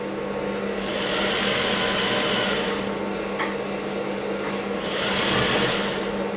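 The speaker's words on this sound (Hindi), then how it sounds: "सिलाई मार देनी है पूरी" A tailor's sewing machine stitching a golden border strip onto a blouse, running as a continuous close mechanical whir that swells and eases slightly, with no talking.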